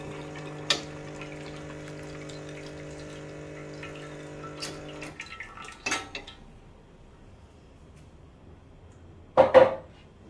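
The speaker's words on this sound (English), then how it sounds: "I have to rinse out my filter basket" An espresso machine's filter basket is rinsed under water, with a running-water hum for several seconds, then metallic clinks and knocks of the basket, louder near the end.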